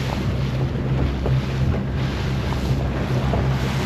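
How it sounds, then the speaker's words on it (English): Strong wind blowing hard over a lake, a constant loud roar and buffeting across the microphone with steady rumble and no talk. "Well, the wind definitely got up. Now it's howling through here."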